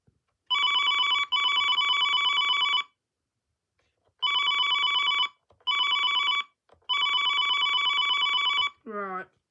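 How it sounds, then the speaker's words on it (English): A Siemens OpenStage 15 HFA desk phone plays its first ringtone, loud electronic trilling bursts repeated in several bursts with short gaps, followed by a brief fragment of another sound at the end. "so this is ringtone 1."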